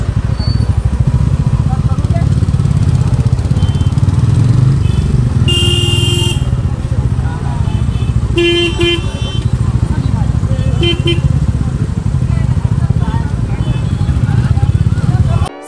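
Heavy road traffic near Amboli's main waterfall during a monsoon bike ride, a constant loud rumble of motorcycle and car engines with several bursts of honking horns and voices talking over it.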